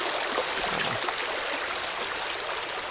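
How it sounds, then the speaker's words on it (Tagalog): A forest stream flows steadily nearby, a continuous broadband wash of rushing water with no break and no voices over it. "ganda ng sapa mga guys"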